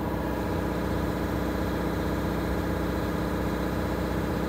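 An MCI bus engine idles in a parking lot with a steady, continuous low rumble and broadband mechanical drone, moderately loud and unchanging throughout, with no voices.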